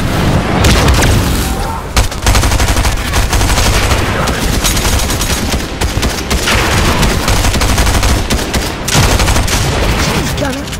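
A grenade explosion and gunfire in a multiplayer shooter video game, played as a duos match, come as a loud, continuous barrage of booms and rapid shots that carry on almost without break, with players' voices faintly underneath.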